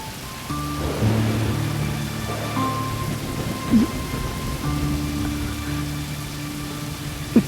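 Steady rain hisses and patters on surfaces, with low rumbling beneath and a sustained droning tone throughout.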